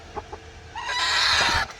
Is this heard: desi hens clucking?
yes